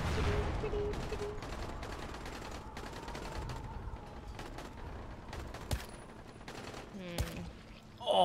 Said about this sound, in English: Babe, try the silencer gun.